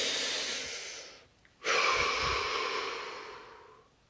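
A deep human breath, one long audible inhale followed after a short pause by a long, slow exhale, close to the microphone with no talking.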